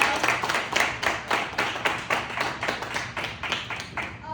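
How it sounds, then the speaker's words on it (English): A small group claps steadily for several seconds, the claps close and even, with no voices over them. "let's clap it up for Bilal"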